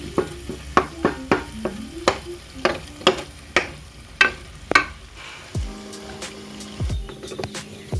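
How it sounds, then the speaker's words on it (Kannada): Grated coconut residue frying in a pan to draw out homemade coconut oil: a spoon scrapes and knocks against the pan in a regular series of sharp strokes over a low sizzle, with a few slower scrapes at the end. "ಎಲ್ಲ ಸೀದು ಎಣ್ಣೆ ಬಿಟ್ಕೊಳ್ಳುತ್ತೆ"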